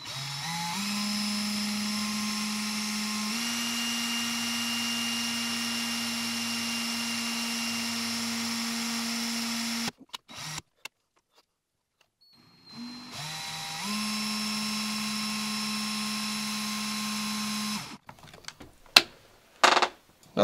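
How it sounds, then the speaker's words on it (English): A power drill spins up to a steady high whine while a magnet spinner is being built, cuts off abruptly, then spins up again and runs before stopping with a few clicks. "Let's go ahead and spin up that drill."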